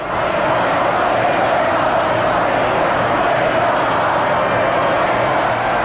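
A huge crowd gathered outside for the 1981 royal wedding roars continuously, a dense wash of cheering and shouting that stays loud and unbroken from start to finish.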